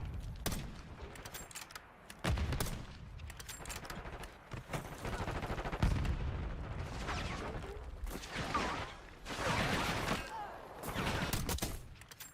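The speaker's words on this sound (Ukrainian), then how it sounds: "А ну я хочу зараз почути звук вбивства в тіло та в хедшот" Rapid gunfire in Call of Duty: Black Ops 6 with sharp shots and bursts, one kill hitting the body and another a headshot, loud and busy with faint voices underneath.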